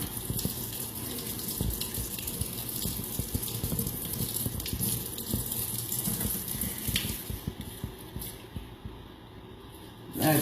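Water runs steadily from a tap while a makeup brush is rinsed under it, a continuous soft hiss and splash at moderate distance that cuts off near the end.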